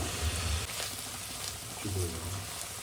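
A spice paste of turmeric, garlic and chili fries in a pan with a soft, crackling sizzle and faint stirring, while low voices murmur briefly in the background.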